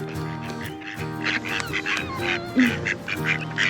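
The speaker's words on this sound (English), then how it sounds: "Look at all the other seagulls." A flock of seagulls calls repeatedly in a noisy cluster of honking, squawking cries, overlapping near and far, with no speech.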